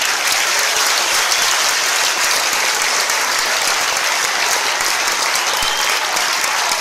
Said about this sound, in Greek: Έχω πολύ μεγάλο χειροκρότημα για αυτή την απίθανη ορχήστρα.